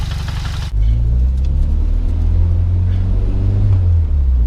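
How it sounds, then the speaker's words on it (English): A turbocharged 1.6-litre Nissan Sentra B13 drives close by, its engine a loud steady low drone with a subtle rising tone as it pulls away after a brief higher-pitched noise at the start. "we're gonna go for a small drive"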